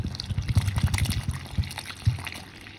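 Water poured into a bowl of ground jowar (sorghum) flour, making a close, uneven gushing and splashing pour with brief sloshes throughout.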